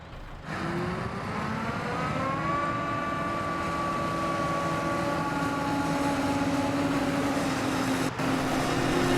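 A lawn mower engine in the Cattle and Crops farming game starts up and settles into a steady, continuous drone with a faintly rising pitch, loud and alone throughout.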